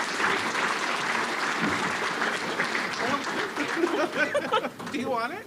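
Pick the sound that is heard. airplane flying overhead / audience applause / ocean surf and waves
audience applause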